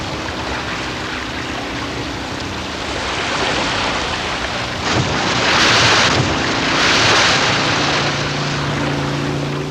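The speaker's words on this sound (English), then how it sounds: "Breaching like this, jumping clear of the water and re-entering with a loud splash" Killer whales leaping clear of the sea and crashing back in, heard as broad noisy splash surges swelling in the middle and later, over steady wind and ocean wash with a low engine-like hum.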